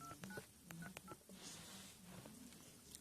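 Keypad tones on a Samsung SPH-N400 phone as a lock code is entered. Several quick, clean beeps come close together at the start, then quiet room noise follows.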